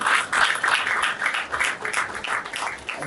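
An audience at an architects' forum in Lagos applauds briefly for the state governor, a short burst of moderately loud, dense clapping.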